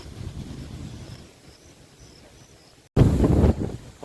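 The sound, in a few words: wind by the river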